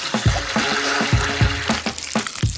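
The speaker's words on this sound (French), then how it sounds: "Et je vais bien tout fouetter." A whisk beats gelatin, sugar and water in a bowl with quick, rhythmic wet strokes and clinks, close and fairly loud throughout.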